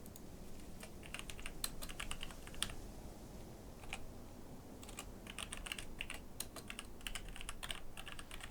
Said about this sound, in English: Just in case you can hear my keyboard.